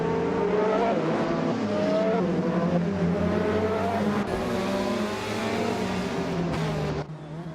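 A 2016 Leggero JSP2 race car engine revs hard and climbs steadily through the gears, loud and close, with brief tire noise and a sudden drop in pitch near the end.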